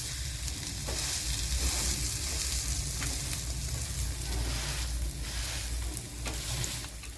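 Bread omelette frying in a pan while being pressed down, a loud, steady close sizzle with a few faint spatters and scrapes, no talking.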